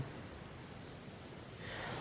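Gentle sea waves lap on a pebbly shore, a soft continuous wash of surf with a slight swell toward the end, faint and steady with no voices.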